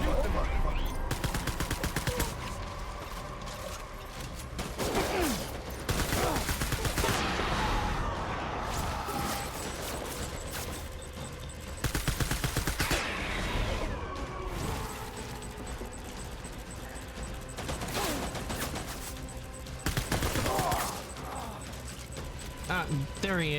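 Bursts of gunfire from a shooting video game, sharp volleys and machine-gun rattles recurring across the span, loud and dense, with a player talking over the action.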